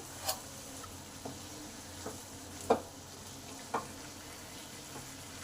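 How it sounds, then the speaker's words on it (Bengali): Tomato masala with a little salt and sugar sautéed and stirred in a pan for a potato chilli dish: a quiet, steady sizzle broken by soft spatula taps and scrapes about once a second, with no voices. "ভালো করে কষে নেবো যাতে টমেটোর কাঁচা গন্ধটা চলে যায়"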